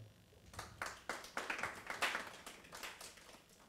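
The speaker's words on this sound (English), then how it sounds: "another hand of clap" An audience at a climate change symposium claps their hands. It starts as a few scattered claps and builds into a brief round of moderate applause, heard somewhat distantly.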